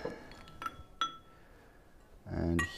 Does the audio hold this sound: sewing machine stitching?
no